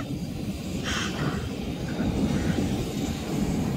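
Steady cabin roar inside an airplane in flight, a continuous broadband rumble and whoosh that stays constant throughout, with a faint brief tone near the start.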